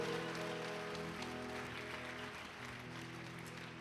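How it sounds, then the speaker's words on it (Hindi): A church congregation applauding, a dense continuous wash of clapping held steady throughout, with faint sustained musical tones underneath. "ताली बजाएं मेरे खुदा के लिए"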